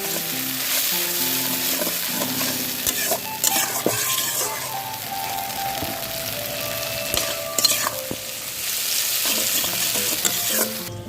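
Ground spice paste fries and sizzles steadily in a pan while a utensil stirs through it with occasional scraping clinks, close and continuous throughout, with no talking.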